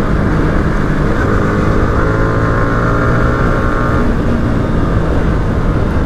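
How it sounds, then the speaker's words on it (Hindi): Motorcycle engine while riding on a road in traffic, a loud continuous drone with a steady pitch that shifts slightly, mixed with wind rush, no talk. "तो भाई अभी फिलहाल मैं चला रहा हूँ बाइक को"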